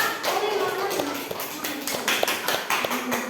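Children in a combined primary school class clap their hands together, a quick run of irregular sharp claps under a teacher's voice and room noise.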